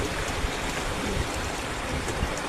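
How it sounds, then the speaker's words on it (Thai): Strong floodwater rushes past in a steady, loud broadband roar with no pauses, continuous churning from close by and no voices over it. "จากน้ำมากนะพี่น้องเนาะน้ำมาแรงมากพี่น้องคะ"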